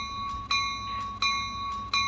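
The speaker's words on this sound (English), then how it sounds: "we turn off the bell" Train bell at a station in the Roblox game, RO-Scale Northern California map: a steady bright ringing with a struck stroke roughly every 0.7 seconds, three strokes heard, moderately loud with no talk.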